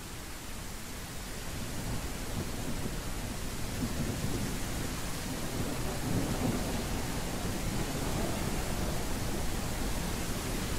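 Heavy rain and a thunderstorm in the Animalia video game form a dense, steady hiss with low rumbling underneath, continuous and even throughout, with no voices.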